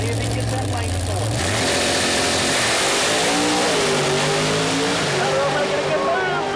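A nitrous Pro Mod drag car roars down the dragway at an Outlaw Nitrous race, its engine loud and sustained with a rising, shifting pitch as it accelerates, the roar filling the whole stretch.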